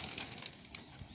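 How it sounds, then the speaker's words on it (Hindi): A pigeon coos softly, close and faint, at a breeder's loft of pigeons, with a short low rolling call and a possible brief wing flutter, no voices. "ये दोस्तों आया कबूतर"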